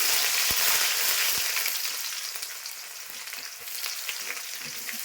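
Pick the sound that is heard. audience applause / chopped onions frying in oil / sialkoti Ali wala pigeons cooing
chopped onions frying in oil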